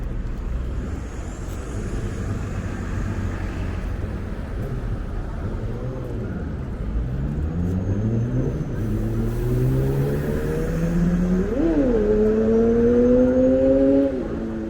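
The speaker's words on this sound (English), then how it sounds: "Caution, bus is turning." A bus's engine rises and shifts in pitch as it slowly turns on a Philadelphia street after midnight, steady road noise underneath, fairly close by.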